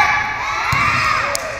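School children in a gym cheering loudly for the Rumble the Bison mascot, a dense continuous roar of high young voices with a couple of thumps underneath.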